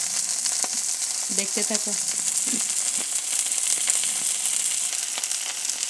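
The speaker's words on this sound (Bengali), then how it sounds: "কিছুক্ষণ ভেজে আমি উল্টিয়ে পাল্টিয়ে ভালো মতো ভেজে নামিয়ে নেব" Large, fresh pond fish full of roe fry in a pan with a continuous moderate sizzle, a few soft clinks, and a brief spoken phrase partway through.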